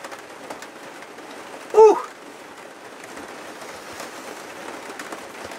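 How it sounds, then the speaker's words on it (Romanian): Steady rain falls outside a caravan, a constant soft hiss throughout, with one brief bird call cutting through near the middle. "Plouă, plouă, plouă."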